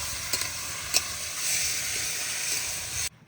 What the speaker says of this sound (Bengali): এবার আলু ভালো করে ভেজে নেব।